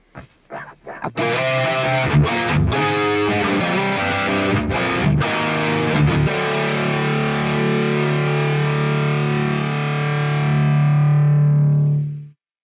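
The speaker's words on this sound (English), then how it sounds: "now let's enable the doubler with that 6 millisecond delay" A distorted electric guitar riff through a Quad Cortex stereo doubler with 6 millisecond delay plays chopped, palm-muted stabs before settling into a long, sustained chord that fades and then stops, sounding wide and doubled.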